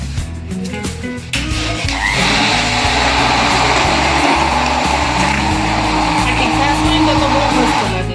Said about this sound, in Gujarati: તો એને આપણે બ્લેન્ડર ફેરવી નાખશું.